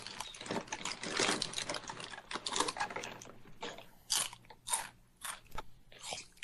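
Someone crunches and chews food close to the microphone, with irregular loud bites and crackling chews coming in quick bursts and short pauses.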